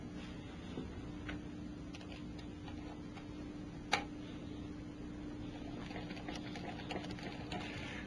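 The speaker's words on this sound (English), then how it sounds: "I'm taking all the bolts out. Let's pull all the bolts out of the valve body here." Bolts come out of a 4R70W transmission valve body with faint, rapid ticking like a ratchet, broken by one sharp metallic click in a quiet workshop.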